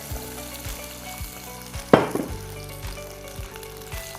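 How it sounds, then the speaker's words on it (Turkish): Quince simmering in a pot with added orange juice and water, stirred with a utensil: a steady low sizzle with soft periodic scrapes and one sharp metallic clank midway, no voices. "Güzelce karıştıralım."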